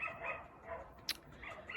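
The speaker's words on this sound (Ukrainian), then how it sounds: "не можу я із за цього гавкіта" A dog gives a few short yips and barks, faint and somewhat distant, with a brief sharp click partway through and quiet room noise between.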